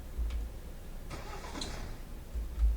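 In a video game, a car engine that is out of gas tries to start. A brief burst of cranking comes up close against low background rumble, and the engine never catches.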